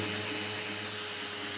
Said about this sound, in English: I'm just gonna sand it a little bit